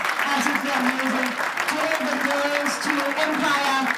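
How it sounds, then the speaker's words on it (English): Continuous crowd applause with scattered cheers at a fashion show, while a voice speaks over it through a loudspeaker. "if you can all just give them a round of applause"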